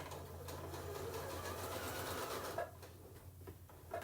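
A sewing machine back stitching a candy corn colored placemat runs in a steady continuous whir for most of the stretch, then stops and leaves a few soft handling clicks and taps near the end.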